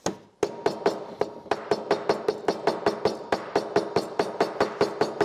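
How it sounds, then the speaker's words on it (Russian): A meat-tenderizing hammer crushes black peppercorns on a napkin, striking in a fast, steady run of about twenty sharp, close knocks after a brief opening thud. "Но при этом мне немного помогает молоток для отбивания мяса,"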